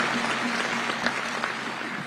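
Audience applause at a Minorities Rights Day event, a dense, steady wash of many hands clapping filling the room with no pause.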